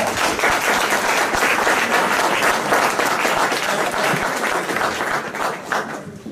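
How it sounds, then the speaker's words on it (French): Loud, sustained applause from an audience at a B'nai B'rith gathering, with dense, steady clapping that holds for the whole stretch and fades only slightly at the end. "j'espère qu'on va tous l'applaudir parce qu'il est le meilleur du monde."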